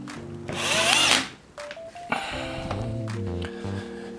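Power drill driving screws into a wooden router fluting jig, one loud whining burst that spins down, then shorter trigger pulses with a thunk between them, close up.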